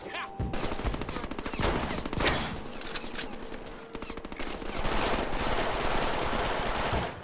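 Rapid shotgun blasts in the Deadpool video game, a dense barrage of repeated loud gunfire shots that continues without pause throughout, with no voices over it.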